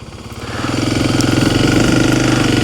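Kawasaki KLX300 dirt bike engine running close by on an access road, a steady pulsing single-cylinder chug that rises in volume over the first second and then holds, with no talking.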